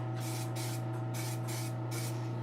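Red spray paint hisses from a can in four or five steady bursts with short pauses, over a constant low hum.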